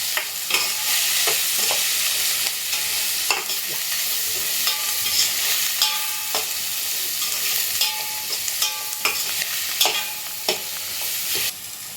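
Onions with garam masala stir-fry in a pan, a continuous bright sizzle broken by repeated scraping strokes of a spatula, close and steady with no talking.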